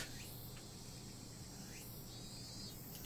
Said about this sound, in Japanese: これセミだな。